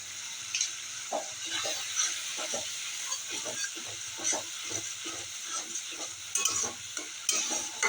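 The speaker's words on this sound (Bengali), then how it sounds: "মশলাটা একটু কষিয়ে নেবো" Spice masala of tomato paste and half a spoon of Kashmiri chili powder frying in oil, a steady soft sizzle broken by repeated scraping stirs, moderately quiet and close, with no voices.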